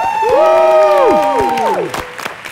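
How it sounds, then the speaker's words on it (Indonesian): A studio audience at an Indonesian game show applauds with scattered claps beneath loud, pitch-sliding whoops and cheers, all close and energetic over two and a half seconds. "Tepuk tangan dulu dong."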